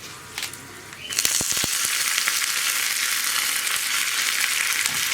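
Dried red chillies and curry leaves hit hot oil for a tempering for mango pachadi. After a brief quiet moment a loud, close sizzle bursts up and keeps hissing steadily to the end.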